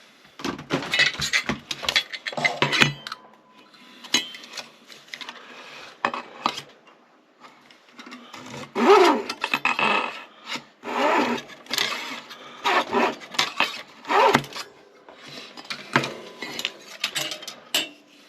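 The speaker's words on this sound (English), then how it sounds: "using the miter box saw" A small miter box saw cuts tiny wooden pieces for a model stagecoach. Short, scratchy sawing strokes come in quick irregular bursts with pauses between, alongside light clicks and taps from handling the parts.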